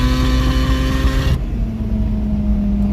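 Ford Ranger fitted with a swapped Mazda RX7 rotary engine, a loud, buzzing engine roar close by that holds steady and then drops sharply partway through as the revs fall.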